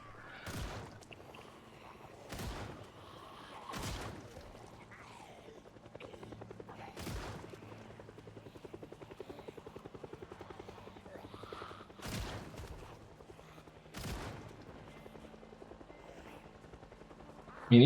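Gunfire and a helicopter in the Project Zomboid zombie survival game: sharp, loud shots come at irregular intervals, several seconds apart, over a steady low rotor drone.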